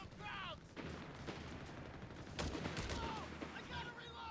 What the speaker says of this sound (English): This Gren here, though, is being shot to pieces by this machine gun.